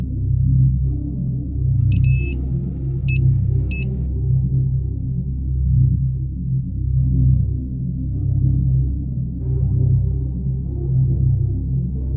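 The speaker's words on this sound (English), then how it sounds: "a manual electronic device, which beeps when its signals detect the presence of metal" Three short, high electronic beeps from a metal detector in quick succession sound over a steady, low throbbing drone that continues throughout.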